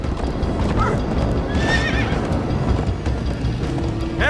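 Horses in the video game Minecraft: Story Mode gallop with steady clip-clop hoofbeats, joined by a loud whinny midway and another neigh near the end, all continuous and close.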